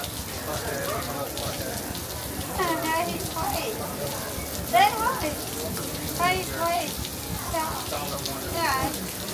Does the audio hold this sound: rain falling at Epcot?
yes